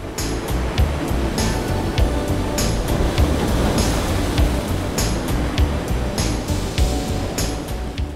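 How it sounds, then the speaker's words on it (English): King tide waves crashing against rocky coastal cliffs on the Oregon coast, a continuous loud roar of surf with repeated hissing washes of spray. "a dramatic coastline where king tides crash against the rocky cliffs"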